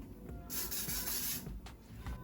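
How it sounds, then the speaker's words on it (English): Soft hissing spray bursts onto hair roots, a longer one followed by a brief puff, faint and close with quiet background. "And now I'm spraying the roots a little bit"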